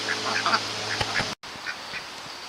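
Several ducks quack in short bursts nearby, with a brief silent cut midway before more quacking resumes.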